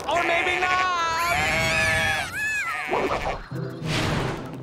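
A cartoon sheep lets out a long wavering bleat, loud and close, followed by a quick squeal, a brief crash-like burst and another cry.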